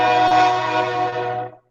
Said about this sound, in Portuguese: Vocês ouviram meu trem aí?